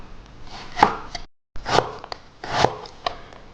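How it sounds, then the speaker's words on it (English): Knife chopping vegetables into julienne strips on a cutting board, sharp repeated chops in three main bursts with a short silent gap, close and fairly loud, no talk. "then we're going to cut them into julienne"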